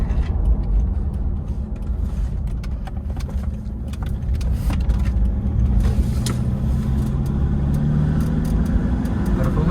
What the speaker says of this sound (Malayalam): കറന്റ് ഇന്ത്യയിലെ one of the most powerful Toyota Fortuner ആണ് നമ്മളിപ്പോൾ ഓടിച്ചുകൊണ്ടിരിക്കുന്നത്